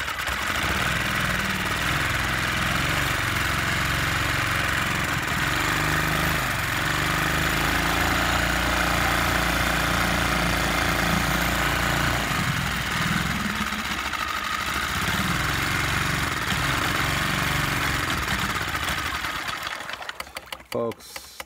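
A Lehr propane outboard motor runs with a rough, fast mechanical chatter and a low rumble that shifts in pitch now and then. It stays loud and close for most of the time, with someone speaking over it, and cuts out near the end.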